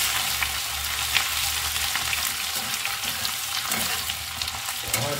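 Ginger garlic paste frying in a pan for egg curry, a dense, continuous sizzle close up with occasional light stirring.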